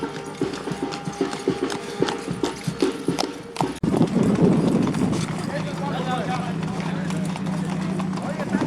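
Horses' hooves clip-clop steadily through a Memorial Day parade looping around Virginia City, a brisk rhythmic clatter close by, heard under crowd noise and people talking.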